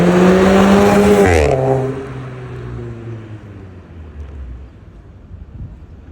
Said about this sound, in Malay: Enjin memang solid lagi tuan-tuan.